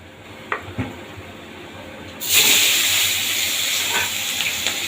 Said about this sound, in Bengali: তেল থেকে অলরেডি ধোয়া ছাড়তে শুরু করেছে এবার একে একে আমি মাছগুলো ভেজে তুলে নেব